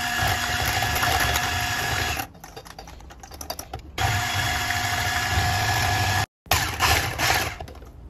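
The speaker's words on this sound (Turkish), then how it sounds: "tüm malzemeyi pürüzsüz olana kadar mikser yardımıyla karıştıralım" A loud electric mixer whirs steadily through dough, cutting out briefly twice before starting again, with a rattling mechanical buzz.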